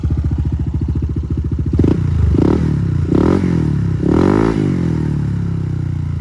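Honda ADV 160 scooter fitted with an MTRT Evo 2 exhaust, heard close and loud in an open space: a steady idle rises into three or four quick throttle blips, each swelling and falling back to a burbling idle.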